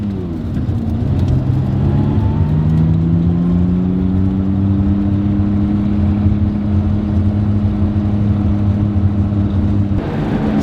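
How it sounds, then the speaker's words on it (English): A Subaru-engine-swapped Porsche 911 pulls hard on a test drive, its engine note climbing steadily in pitch as it accelerates, loud and close from inside the car, with a brief lift near the end; no one speaks. "So taking it for a little test drive."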